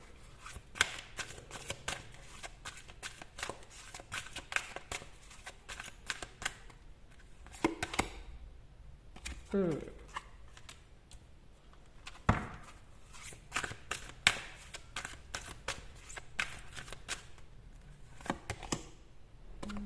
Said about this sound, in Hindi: ये साइड में रख रही हूँ गाइस, क्योंकि मुझे यहाँ से कार्ड्स निकालने हैं।